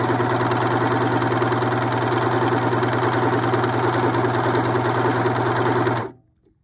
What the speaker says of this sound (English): I'm going to go ahead and sew off the end.